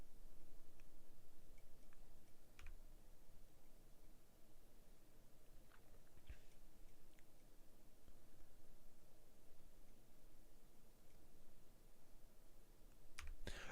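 Typing on a computer keyboard with mouse clicks during a Magic: The Gathering game: soft, irregular key taps and clicks close by over a steady background hiss, with no talking.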